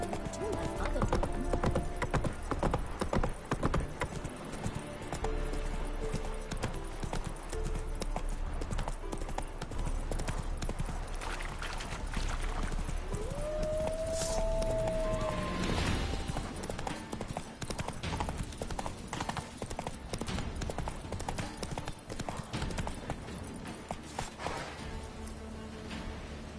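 Horse hooves clip-clop steadily through a galloping ride in The Witcher 3, a loud continuous drumming under game music, with a brief whinny partway through and a voice speaking near the start.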